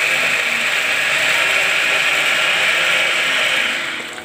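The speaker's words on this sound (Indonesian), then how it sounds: "ini namanya juker murahan, murah meriah" A cheap manual food chopper is cranked steadily, producing a loud, continuous ratcheting whir close up that eases off at the end.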